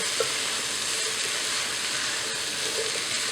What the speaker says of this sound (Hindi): अब हमें इन सारे वेजिटेबल्स को अच्छी तरह से पकाना है।